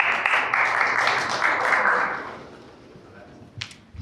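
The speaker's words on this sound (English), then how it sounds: "Please give him a clap." Audience clapping at a public speaking club meeting, a loud burst of applause from a room of people that fades out over a few seconds, followed by a quiet pause and a couple of faint scattered claps.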